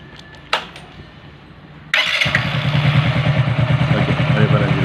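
A bike or scooter engine cranks after a faint click, then catches and settles into a steady, loud, buzzing idle that runs on close up for several seconds without talking.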